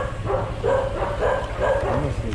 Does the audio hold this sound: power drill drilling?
no